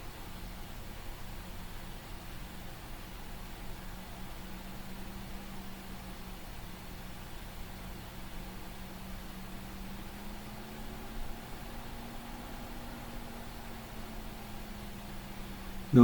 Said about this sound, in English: the oven is still on and it's on 180 centigrade